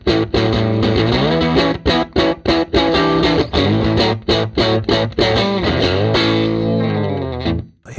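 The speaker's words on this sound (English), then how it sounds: "It's the sound of a tweed amp and a Gretsch guitar and a Bigsby tremolo" A Gretsch guitar with a Bigsby tremolo played through a Fender '57 Bandmaster tweed amp with three 10-inch speakers, loud, driven chords and riffs with crunchy distortion and short rhythmic breaks, ending on a fading chord.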